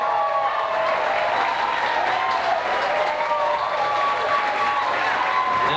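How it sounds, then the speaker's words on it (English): Wedding reception guests clap together in a sustained, dense round of applause indoors, steady and fairly loud with scattered cheers mixed in, lasting the whole stretch. "have you give them a round of applause"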